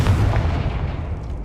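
A Confringo spell explodes in the video game Hogwarts Legacy with one deep, rumbling boom that fades out over about a second.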